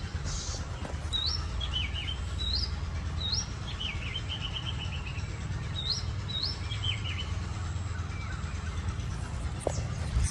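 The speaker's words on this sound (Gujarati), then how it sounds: "અલગ અલગ પક્ષીઓનો અવાજ આવે છે" Several birds call and chirp in scattered short phrases, some trilling, around open farm fields with trees, set against a steady low rumble of distant traffic.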